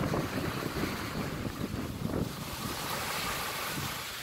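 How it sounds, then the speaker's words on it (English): Steady wind roars across the microphone aboard a boat off Grenada, a continuous broadband rush with faint water movement beneath and no talk. "the wind."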